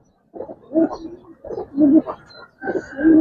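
A male and female pair of Giribaz pigeons coo in three rolling bursts, close and moderately loud, with brief pauses between each round.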